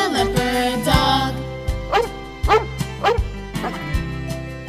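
A two-week-old red Catahoula Leopard Dog puppy gives a string of high yips and whimpering barks, several sharp cries in an uneven rhythm, close and clear.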